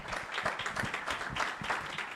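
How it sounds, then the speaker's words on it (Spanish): A conference audience applauds a panel moderator being welcomed at a health and AI event, steady dense clapping filling the room without a break and no one speaking over it. "Un fuerte aplauso para ella,"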